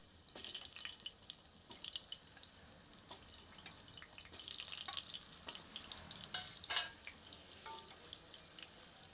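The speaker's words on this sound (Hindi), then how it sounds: "अब इस तेल में छिले हुए आलूओं को आंशिक रूप से तलते हैं।" Peeled potatoes partially fry in hot mustard oil for a mutton and potato curry, making a faint, continuous sizzle with scattered crackles and soft stirring sounds, with no talking.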